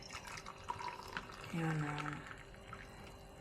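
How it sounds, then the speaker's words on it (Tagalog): Water is poured into a cup to steep breakfast chai tea, a brief liquid pour and trickle rising near the middle of the clip beneath a woman's speech and kitchen background noise. "Ngayon, nilalagyan ko ng tubig siya dito,"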